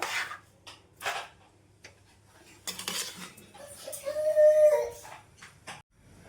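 Sugar syrup for an amla preserve stirred in a pan, with sporadic scraping and clinking of a spoon against metal, brief gaps between strokes, and a short squeaky rasp partway through.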